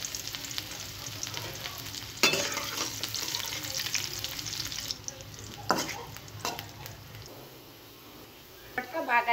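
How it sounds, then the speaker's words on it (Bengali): Cumin, chopped onion and garlic fry in oil as a tempering for bharta, a continuous close sizzle broken by several sharp spatula scrapes and stirs, fading somewhat toward the end. "ভর্তা বাগারের জন্য প্রথমে আমি জিরা দিয়ে দিলাম তেলের ভিতরে।"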